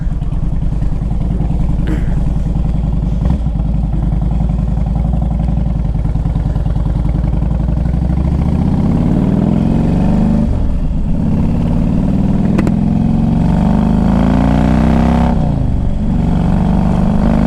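A 2005 Harley-Davidson Electra Glide Standard motorcycle engine runs loud and close, a deep steady rumble that rises as the rider revs and accelerates, then settles and swells again.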